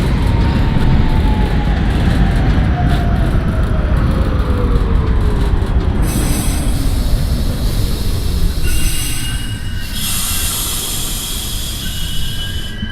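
A simulated NYC Subway R68A train on the Q line along the 4th Avenue express runs loud and close. Wheels squeal at a falling pitch over a steady rumble, then higher screeches and hisses come in toward the end.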